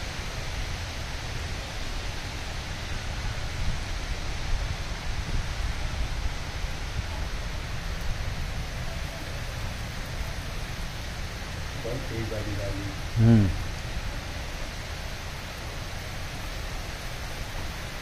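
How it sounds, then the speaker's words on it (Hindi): Wind-driven rain falls steadily as a broad, even hiss that fills the whole span, with a brief louder knock or voice-like burst near the end. "हवा के साथ बारिश है"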